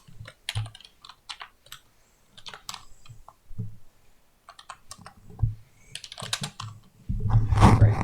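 Fingers type on a computer keyboard during a coding session, giving quiet, close clusters of key clicks in irregular bursts with short pauses between them, ending in a louder rustling thump.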